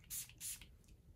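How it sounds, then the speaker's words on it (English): Hand sanitizer sprayed onto hands: two quick, hissing spritzes in close succession, the second followed by a faint softer puff, close-up and quiet against a low background hum. "spray it on your hands"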